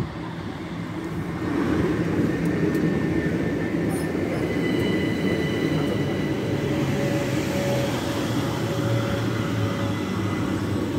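An electric passenger train of two Class 375 units rumbles steadily close by as it arrives at a platform, wheels clattering on the rails, with a faint high squeal and broadband mechanical roar throughout; no voices.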